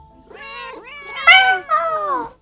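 A cartoonish cat meows in the cozy video game Cattails: Wildwood Story, three drawn-out, rising and falling mews in a row, clear and close with nothing else behind them.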